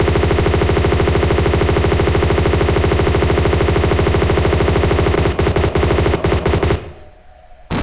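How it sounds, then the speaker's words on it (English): M16 rifle fire in the video game Tomb Raider II remastered: a loud, sustained burst of rapid automatic shots at an even pace, ending in a few scattered shots before cutting out near the end. "Let's get out the M16."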